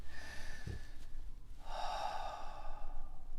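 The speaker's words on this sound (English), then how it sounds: "I breathe it out" A single person exhales audibly and steadily, a soft breathy rush lasting about a second, close to the microphone and alone, used as a calming breath before speaking in public.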